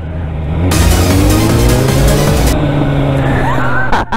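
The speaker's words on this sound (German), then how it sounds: "Oh, komm, jetzt nochmal Gas geben." A motorcycle engine on a practice ground revs hard as the rider opens the throttle, a loud sustained roar with rising pitch that holds for a few seconds, then cuts off abruptly.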